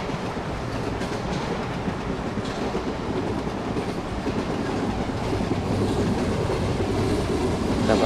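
The Kakatiya Express rolls along in the Trainz game on Android, with a dense, steady rumble of wheels and rhythmic clickety-clack from the carriages, loud and continuous with no talk.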